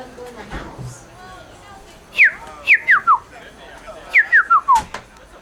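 A person whistles short, falling two-note calls toward a bird nesting near a house door, in two quick bursts of four notes each, close and clear, with soft background talk and outdoor noise.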